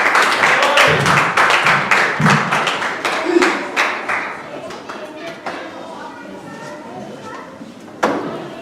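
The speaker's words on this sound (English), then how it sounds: "Let's give a clap offering this morning." Church congregation at a White Sunday morning service giving a clap offering: loud, dense hand clapping that gradually thins and fades into scattered claps and murmuring voices, ending with a single sharp knock.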